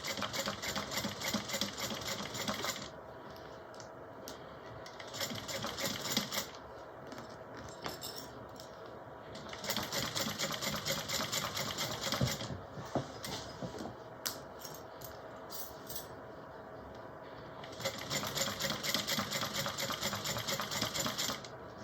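A sewing machine runs a 1/8 inch topstitch on a mini bowler bag, in three separate bursts of steady whirring with quieter pauses between them.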